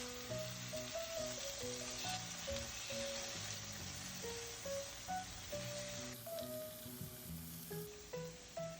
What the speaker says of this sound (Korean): 다음으로 호박과 두부를 먼저 구워줄 거예요.